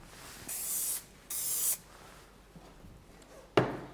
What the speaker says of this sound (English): Web spray is good.